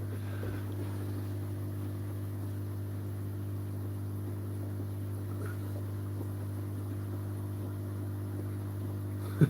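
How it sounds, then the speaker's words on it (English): Aquarium air pumps and bubbling water in a home shrimp tank setup, a steady continuous hum with a low drone and soft, constant bubbling hiss, unchanging throughout with a small click at the very end. "So you can hear all the air pumps and bubbling and all sorts going on."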